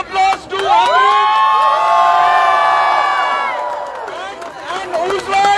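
At a candle light protest march, a crowd bursts into loud cheering and high whoops, many voices rising together and holding for a few seconds before fading into scattered shouts.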